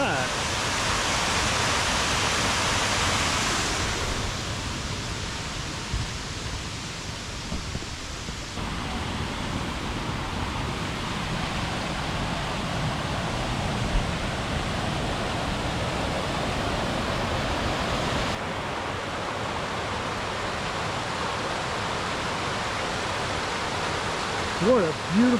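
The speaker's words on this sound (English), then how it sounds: "What a beautiful cascade." Ausable Falls, a forest waterfall in Michigan, roars as a continuous broadband rush of falling water, loud and steady throughout with slight shifts in tone as the listening position changes.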